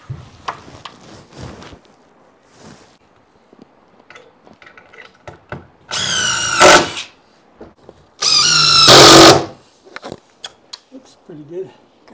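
Power drill driving screws into a bathroom wall under construction: two loud whirring bursts of about a second each, close by, with scattered handling knocks and brief talk around them.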